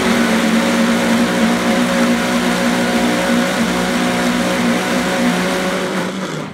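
Vitamix Venturist 1200 blender running at high speed to liquefy potato pancake batter, a loud, steady motor whine with a constant pitch that holds throughout and begins winding down at the very end.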